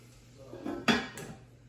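A lid clanks back onto a cooking pot, a sharp metallic clatter followed by a lighter second tap, quiet and close with no talking.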